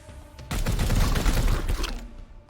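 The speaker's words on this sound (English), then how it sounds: "let's shoot this guy" A rapid burst of gunfire hits an enemy in Warhammer 40k: Chaos Gate. It erupts suddenly, rattles loudly for about a second and a half, then cuts off to quieter background sound.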